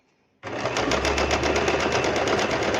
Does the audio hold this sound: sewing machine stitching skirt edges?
yes